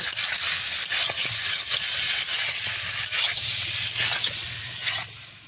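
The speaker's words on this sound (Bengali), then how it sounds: "এবার এটাকে ভালো করে কষে নিতে হবে।" A home-cooked dish being stir-fried and browned in a pan, a loud close sizzle with repeated scraping stirs and clatters, fading slightly near the end.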